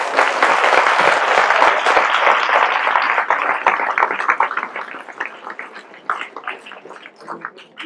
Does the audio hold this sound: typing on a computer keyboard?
no